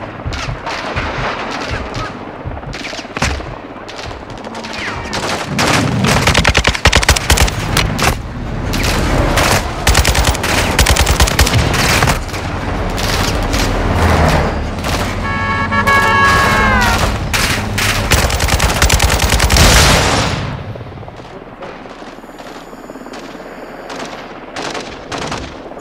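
Light machine gun fire in Call of Duty: Modern Warfare II, loud rapid bursts and heavy gunshots in a continuous barrage for about twenty seconds, then dropping to quieter background noise.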